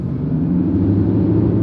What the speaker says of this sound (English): so now let's just hear the engine.